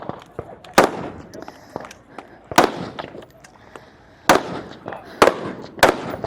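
Sharp rifle or pistol shots ring out at an elite shooting competition, several loud isolated cracks spaced a second or more apart over steady background murmur.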